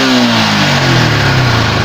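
A motorcycle with a Next fuel-injected engine revs after ECU tuning, its pitch sweeping up and down in a loud, continuous roar, close by and heard alone.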